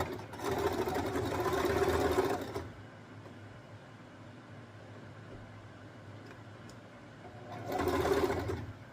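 A sewing machine stitches a saree blouse in two fast, steady whirring bursts, one of about two seconds at the start and a shorter one near the end, with quiet room tone between them.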